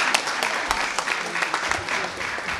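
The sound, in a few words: audience applause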